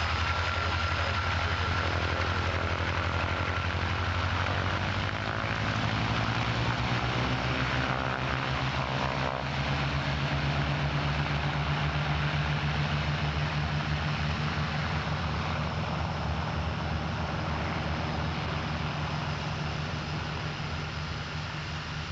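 A P2 Neptune air tanker at Santa Barbara in 1987 runs its engines with a loud, continuous propeller drone and a rising, shifting pitch partway through, heard close and steady with no talk.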